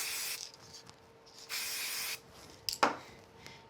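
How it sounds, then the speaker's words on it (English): Short bursts of spray glue hissing from an aerosol can, two longer sprays and a few brief puffs, close by, followed by a light tap. "I'm going to add some spray glue to the back"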